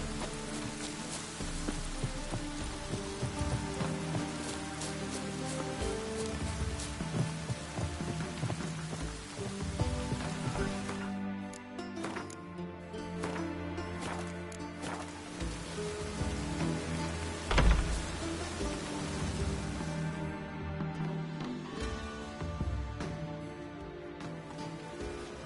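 Steady rain patters in The Witcher video game on PS4, over a dense ambient backdrop with layered tones, continuous throughout and moderately loud, with a brief sharper thump midway.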